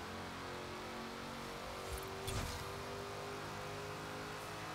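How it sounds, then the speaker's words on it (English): A supercharged V8 car engine in Forza Horizon 4 drones loud and steady, then swells into one brief rev near the middle before settling back to its constant roar. "I do love a supercharged V8"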